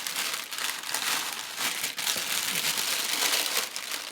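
Parchment paper crinkles and rustles continuously up close while granola is tipped out of it, a steady crackling handling sound with brief pauses.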